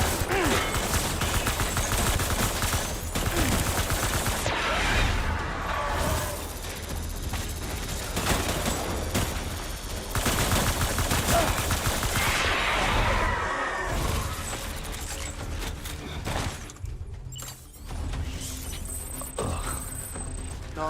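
Sustained bursts of gunfire in the video game Death Stranding on its very hard difficulty, loud and dense throughout with overlapping shots and mechanical clatter, steady for about twenty seconds with little talking.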